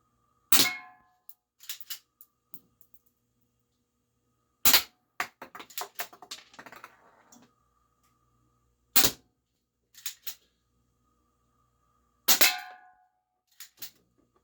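Four sharp shots from a GameFace Stinger P311 pistol, each a crisp close pop spaced a few seconds apart, some followed by lighter clattering ticks, with no talking.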